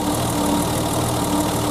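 Engine of a 1988 BMW E30 idling right after its fault codes are cleared, a steady even hum with a faint rhythmic ticking throughout, close and fairly loud, with no talk.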